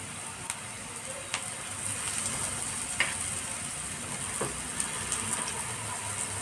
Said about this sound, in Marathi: कांदा परतत आला आहे आता यामध्ये हिरवी मिरचीचं थोडं तिखट टाकून घेतलं आईने